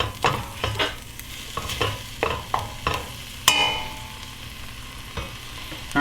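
Ground 80-20 beef frying in a pan, a constant sizzle broken by repeated scraping stirs of a utensil at an uneven rhythm, close and clear with no talk.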